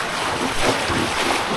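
Floodwater surges and climbs during Typhoon Opong in Occidental Mindoro, a loud unbroken roar of churning water and gusting wind close to the microphone.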